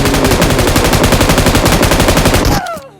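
Gunfire from a shotgun loaded with pellet rounds in the mobile shooter game PUBG Mobile: loud, rapid, evenly spaced blasts run continuously for over two seconds, then stop abruptly and leave a brief fading tail.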